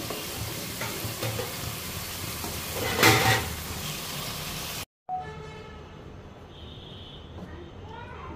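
Giant freshwater prawns, small prawns and local prawns being sautéed in a pan with spices for prawn biryani: a loud, continuous sizzle with stirring scrapes, then a cut to a quieter kitchen where a voice speaks.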